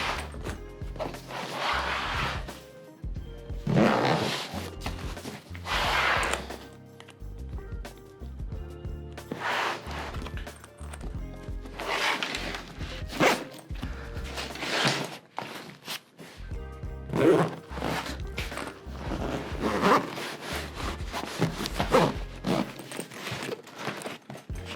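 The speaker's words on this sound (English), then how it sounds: "we're just gonna zip that up and see if it fits." A waxed canvas EVERGOODS CPL16 bag is zipped shut while fully packed, making a series of close, rasping zipper strokes in uneven bursts with short pauses between pulls.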